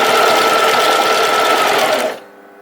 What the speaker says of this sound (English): So I press it down and I sew.